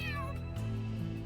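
A game cat in Trails Through Daybreak lets out a drawn-out, rising and falling meow, loud and close over steady background music.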